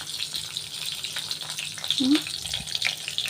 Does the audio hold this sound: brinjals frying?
yes